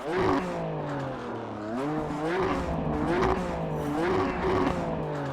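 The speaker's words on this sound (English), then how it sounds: "The M2 CS Racing has the 3-liter twin-turbo inline-6 S55 engine" A BMW M2 CS Racing race car with a 3-liter twin-turbo inline-6 S55 engine roars and revs up and down through gear changes in iRacing, loud and continuous, with faint tire squeal.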